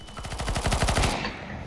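Rapid automatic gunfire from a shooter video game, a fast burst of about a dozen loud shots over roughly a second, then cutting off into a brief quieter tail.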